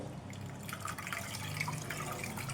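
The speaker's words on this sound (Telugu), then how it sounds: "చింతపండు రసాన్ని ఈ విధంగా పిసికేసుకొని ఇందులో వాటర్ వేసుకోండి" Water pouring and trickling into squeezed tamarind pulp in a container, with a steady splashing, liquid flow and faint drips, close by.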